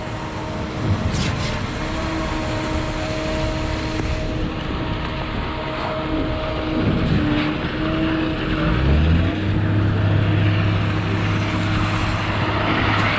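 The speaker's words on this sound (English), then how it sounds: "Concrete truck is pumping." Concrete pump truck, a 61 meter boom pump, pumping concrete for a warehouse floor pour, steady mechanical engine drone with a deeper tone kicking in partway.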